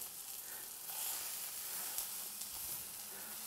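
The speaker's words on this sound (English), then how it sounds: "now we're searing the steak at high temperature" A steak sears at high temperature in a Hexclad 10-inch hybrid pan, giving a soft, even, continuous hiss with a few faint crackles and no voices.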